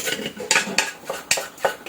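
A metal spoon stirring corn grits mixed with leftover rice in a pot, five or six sharp scraping clinks against the pot in quick, uneven rhythm, close and loud with no talking.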